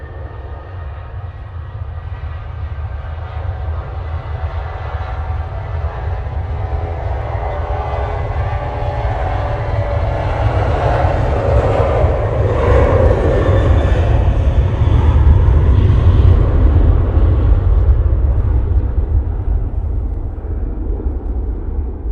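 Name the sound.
Ryanair airliner taking off, Manchester Airport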